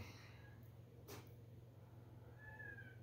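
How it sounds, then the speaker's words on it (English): A faint, drawn-out meow sounds near the end of the clip, over a low, steady background hum. "Forgive me if you guys hear a little meowing in the background."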